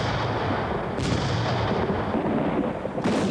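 First World War artillery fire, a dense, loud rumble of booming blasts with fresh heavy impacts landing about two seconds apart.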